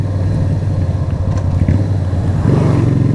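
Keeway V250 V-twin motorcycle engine running close by, a steady low throbbing rumble with a slight swell in the last second as it pulls harder.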